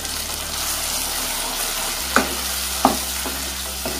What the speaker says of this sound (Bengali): টমেটো আর পেঁয়াজটাকে আমি কষতে দিচ্ছি